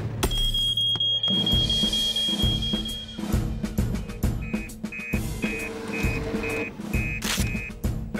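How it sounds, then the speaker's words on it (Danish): A repeating electronic alarm beeps in a Fireman Sam cartoon, set over busy cartoon music and effects: a steady tone first, then a run of short evenly spaced pulsed beeps that carry on to the end. "Falsk alarm uden tvivl."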